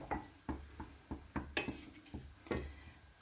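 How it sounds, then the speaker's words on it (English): A spoon knocking and scraping around a saucepan of tomato sauce made with cold tomatoes, a series of irregular close clinks and rubs roughly every half second, with no talking. "give that a little stir now"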